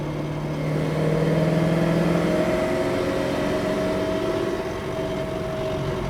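A 1969 Chevrolet Chevelle SS accelerates on the road, its engine droning steadily and swelling slightly in pitch, heard from inside the car at a moderate level with no talking.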